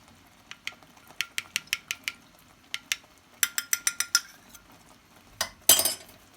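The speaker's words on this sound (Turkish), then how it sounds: "Evet nişastamızı ve unumuzu ekliyoruz. Karıştıralım birazcık daha içinde tortu kalmasın." A spoon or whisk stirs starch and flour into a tarhana mixture in a bowl, making a run of sharp, rhythmic clinks against the side, then a quick flurry of taps and a final clatter.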